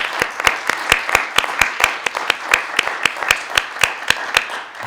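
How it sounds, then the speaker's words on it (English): Rhythmic, unison clapping from an audience at a conference, a regular beat of sharp claps about three per second, loud and close, continuing for several seconds without talk. "let us give a round of applause to Sirpazan"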